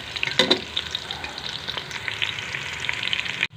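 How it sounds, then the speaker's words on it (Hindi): Onions frying golden in a pan for pulao sizzle steadily close up, a dense crackling hiss with a brief stirring scrape near the start and no voices. "ये प्याज हमारे गोल्डन फ्राई हो रहे हैं"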